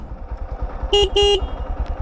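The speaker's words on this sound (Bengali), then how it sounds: "বাট হর্নটা একটু অকওয়ার্ড" A Honda X Blade motorcycle horn sounds two short, close, loud beeps in quick succession over the steady low rumble of the idling engine.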